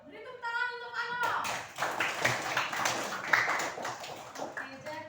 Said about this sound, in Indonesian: beri tepuk tangan untuk Ano